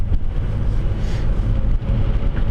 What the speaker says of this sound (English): Now it's raining, so I have my wipers set at intermittent.